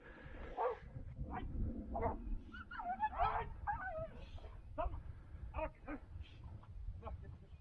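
Several hunting dogs bark and yelp excitedly at a hare in a snowy outdoor setting, with high-pitched whimpers mixed in and a voice talking over the commotion.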